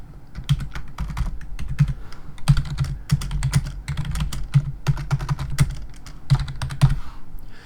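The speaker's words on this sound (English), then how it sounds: "you just need to click in this text editor and begin typing" Steady typing on a computer keyboard, keys clacking in quick uneven bursts with short pauses, close and clear with no talking.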